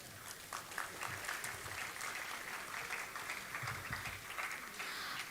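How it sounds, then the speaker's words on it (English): Audience at a conference giving a round of applause, many hands clapping steadily in a large room, fairly faint and distant with slight swells. "I would like to request a huge round of applause."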